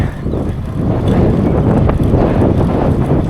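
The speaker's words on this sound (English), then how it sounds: "Man, that wind is no joke." Strong headwind roars across the microphone during a road bike ride near Lake Flanagan, a loud, dense, continuous buffeting rumble with no voices.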